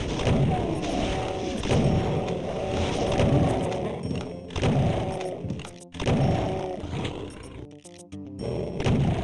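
Repeated heavy shotgun blasts from the super shotgun in Final Doom TNT, thudding at intervals amid dense game action and monster roars, loud and close with no talking.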